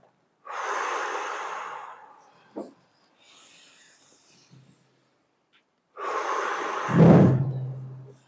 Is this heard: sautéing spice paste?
no